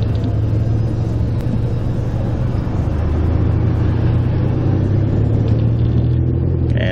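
Sustained loud road rumble as a car drives fast past on a highway near a construction zone, the low engine and tire roar swelling slightly midway and holding steady.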